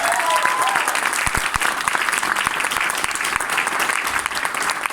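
An indoor audience applauds steadily for about five seconds, a dense, loud wash of clapping from close by with no break.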